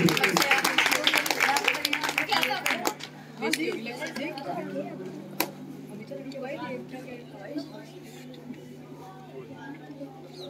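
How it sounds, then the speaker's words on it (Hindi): Audience applause at a Republic Day award distribution ceremony, a burst of scattered hand claps at the start that thins out, with a steady hum and crowd murmur underneath. "एक बार जोरदार तालियां इनके लिए भी।"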